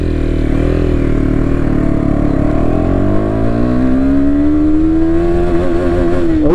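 A motorcycle, an MT 15 or a Duke 250, accelerates hard in first gear on an empty road. The loud engine note climbs steadily in pitch to a high rev near the end, heard up close with wind noise.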